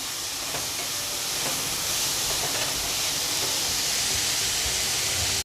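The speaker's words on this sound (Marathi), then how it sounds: "हा कांदा थोडा लालसर होईपर्यंत व्यवस्थित असा परतून घ्यायचा" Finely chopped onion sautés in a hot pan until reddish, for paneer masala. It gives a steady, even sizzling hiss that continues unbroken from start to finish, close and moderately loud, with no talking.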